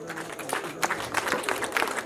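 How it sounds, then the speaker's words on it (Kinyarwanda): Applause from a gathering at a cow-giving ceremony, a short burst of many hands clapping close by, mixed with crowd noise and voices. "reka duhuze ibiganza bibyara amashyi, hanyuma tubashimire"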